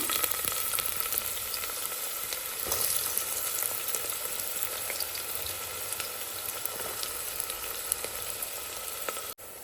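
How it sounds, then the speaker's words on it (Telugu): Onions and green chilies fry in hot oil with a dense, continuous sizzle and crackle, close and steady from start to finish. "సో ఫస్ట్ ఉల్లిపాయ, పచ్చిమిర్చి అయితే వేసేస్తున్నాను."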